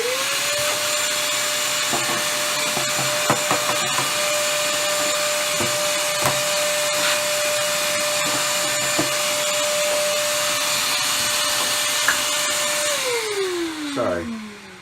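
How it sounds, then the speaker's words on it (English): A vacuum cleaner runs steadily with a constant motor whine, set amid RV trailer build work, with faint clicks and knocks under it before the motor winds down near the end. "I had to turn on the vacuum cleaner for a second."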